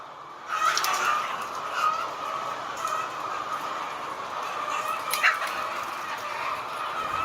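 Chickens in an egg farm barn make a dense, steady murmur of clucking and calls. A constant ventilation-like hum runs underneath, with no talking.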